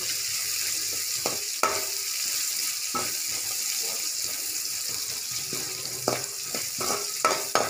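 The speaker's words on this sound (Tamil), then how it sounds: "நல்லா வதங்கட்டும் வெங்காயம்" Small onions sautéing in a pan for chicken liver fry, a steady hiss of frying oil with irregular scraping clicks of a spatula stirring, close and fairly loud, without any talk.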